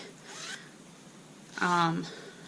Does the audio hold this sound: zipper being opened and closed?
yes